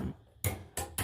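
Nails are hammered in three sharp, close blows spaced unevenly over about a second.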